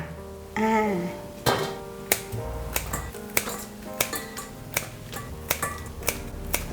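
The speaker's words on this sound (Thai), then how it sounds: "ทีนี้เราจะมาตัดครึ่งกันค่ะ ตัดเป็นแนวนี้นะครับ เฉียงๆนิดนึงนะคะ" A knife slices fried fish balls diagonally in half, giving a run of sharp, evenly spaced taps and clicks against the board, close and crisp over a low background hum.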